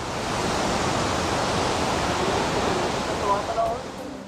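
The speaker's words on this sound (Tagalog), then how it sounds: "At ito nga po ang Pagsanhan Waterfalls." Pagsanjan waterfall in Laguna roars as a steady, broad rush of falling water, loud and unbroken throughout.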